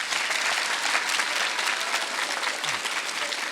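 An audience applauds a pro gamer mentor after his talk, with dense, even clapping from a crowd that stays loud and continuous throughout without fading.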